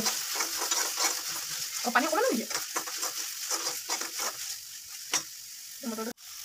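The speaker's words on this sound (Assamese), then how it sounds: "মটৰ দি এতিয়া লৰাই দিছে আৰু।" Green peas stirred and fried in a pan for a Rajasthani-style matar paneer, with steady sizzling and repeated spatula scrapes up close, while a voice talks intermittently over it and a sharp knock lands near the end.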